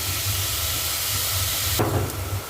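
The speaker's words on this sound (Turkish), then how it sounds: "Suyunu salana kadar kavuracağım." Mushrooms sautéing in a pan until they release their water for a creamy mushroom soup, a steady close hiss and sizzle with a low hum underneath, and a sharp burst of stirring or clatter near the end, no talking.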